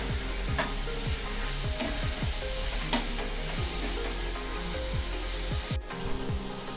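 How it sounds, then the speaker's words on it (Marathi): Spinach sautéing with softened tomato in a pan for dal palak, with a steady close sizzle and repeated scraping stirs throughout, and no talking. "आता आपण यामध्ये पालक ॲड करूया आणि हा सुद्धा यामध्ये एक 2 ते 3 मिनिटांसाठी परतून घेऊया"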